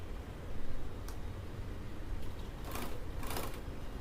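A sewing machine stitches faux leather on a tote bag, its fast mechanical whir running steadily at close range, with a couple of brighter clicks partway through and no talking.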